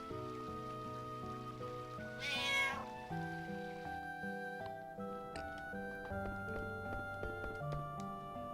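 A cat meowing as a sound effect in Final Fantasy IX, a clear loud meow standing out over soft game music, heard alone with no talk.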